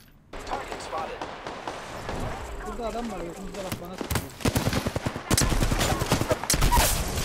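Peacekeeper shotgun fire in the video game Apex Legends: a quieter stretch gives way to loud, rapid bursts of shots near the end, with game noise and footsteps around them.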